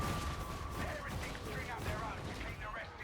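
Gunfire in the video game Darktide, played with a Psyker build, a faint, rapid crackling volley of shots mixed with warping effects that runs continuously under a voice.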